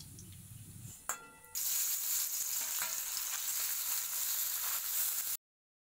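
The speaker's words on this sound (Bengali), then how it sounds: "আর বাকি মাছগুলো একইভাবে ভেজে নেব।" Pieces of fish drop into hot oil and set off a loud, steady sizzle that fills the kitchen, following a quieter stretch and a brief clatter.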